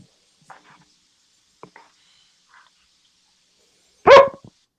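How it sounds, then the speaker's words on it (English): A single loud dog bark bursts out near the end of a quiet stretch in the horror movie Halloween: Resurrection, preceded by a few faint clicks and rustles. "Oh, it's Jaren's dog."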